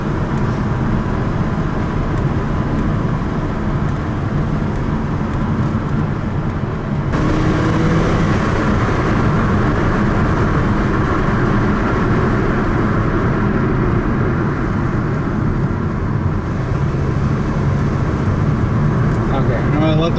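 A 2013 Kia Optima drives along while its new brakes are broken in, giving a steady, loud road and engine rumble with tire noise throughout and a voice talking over it.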